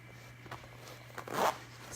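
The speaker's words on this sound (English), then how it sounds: "So I'm just zipping it on" A zipper is run along the flap of a Thirty One fabric purse, giving soft scattered ticks and then one brief, faint rasping pull.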